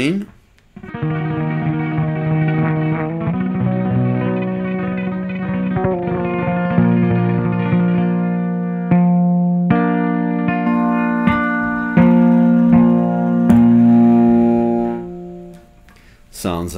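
An electric guitar is played with a chain through effects, giving continuous distorted, chorused tones with rattling attacks and echoes over the whole stretch, ending in a brief fade.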